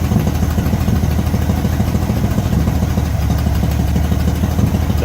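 A 1971 VW Beetle engine, just fitted with a new fuel pump and filter, runs continuously with a loud, steady, rough idle chugging close by.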